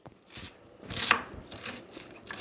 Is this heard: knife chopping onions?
yes